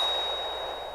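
A metal bell rings out as it is shot, a single close clang that sustains as a steady ringing tone and slowly fades across the second.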